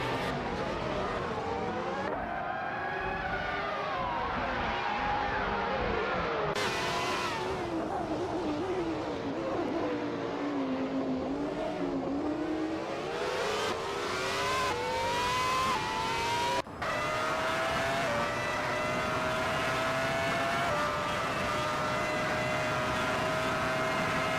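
Race cars in a nonstop racing video game, engines whining and revving continuously with pitch sweeps up and down as several cars jostle closely, loud and steady throughout.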